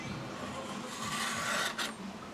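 A knife drawn through a DOMO knife sharpener gives a short close rasping scrape, steady and moderately loud, with a brief sharper grinding burst near the end and no voices.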